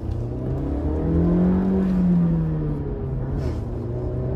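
A Volkswagen Virtus 1.5L GT engine revs up steadily and loudly, its pitch rising and then easing back into a sustained close rumble with no talking over it.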